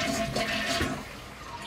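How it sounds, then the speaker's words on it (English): A household toilet flushes in a steady, close rush of water that slowly fades as the tank refills. "You will flush this toilet as well."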